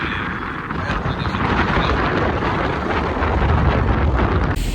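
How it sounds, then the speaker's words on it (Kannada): Steady wind rumbles against the microphone with a light hiss of rain running underneath, continuous and fairly loud throughout. "ಲೈಟಾಗಿ ಮಳೆ ಬರ್ತುಂಟು ಅದರ ಜೊತೆ ತಂಪು ತಂಪು ಗಾಳಿ"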